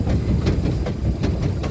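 A small steam train running with a steady rhythmic chuff and clatter, loud and close, with hissing steam and a repeating beat throughout.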